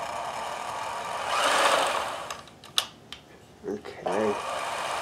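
Vintage sewing machine that had been stuck and stiff, running a zigzag stitch in bursts: a whirring mechanical drone that rises, then stops and starts with clicks and short runs, close by.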